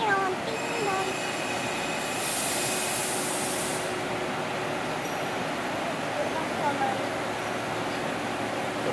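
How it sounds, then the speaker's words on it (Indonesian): An inspection train idles at Gombong station in Indonesia with a steady rumble and faint wheel squeal, then a hiss of air brakes, under distant background noise. "Kereta PPKA berhenti di stasiun Gombong."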